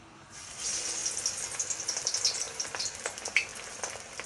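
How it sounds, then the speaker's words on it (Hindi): Fish frying in hot oil gives a steady, bright sizzle that starts abruptly after a brief quiet moment and keeps crackling with small pops, close and fairly loud, with no talking. "अब मैं गरम तेल में डालूंगी"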